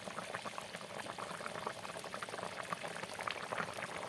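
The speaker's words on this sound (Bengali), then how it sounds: "টকবক করে ফুটছে" Goat meat curry with water added boils in a pot, giving a continuous soft bubbling and burbling, faint and steady with no talking.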